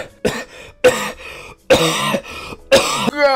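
A man coughs four times in a row, harsh, loud and close, with short pauses between each hacking burst in a comedy sketch about people who are high.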